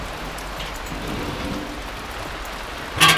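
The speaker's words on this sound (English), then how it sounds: "it is raining." Steady rain pours down in a dense, even hiss, with a brief louder splash or gust of water near the end.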